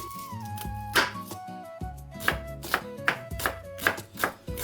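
Onions are chopped on a board for vegetable soup, a steady run of sharp knife knocks at a brisk rhythm, set under continuous background music.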